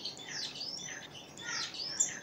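A star finch (Neochmia ruficauda), a small exotic cage bird, sings a quiet, calm song of soft repeated whistled phrases and chirps, close but faint against light background hiss.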